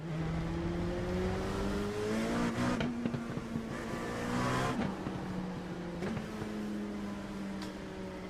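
Engine of an LMP2 prototype race car in the iRacing sim, a steady droning tone that rises and falls in pitch with shifts and throttle changes, continuous and close throughout with no talking.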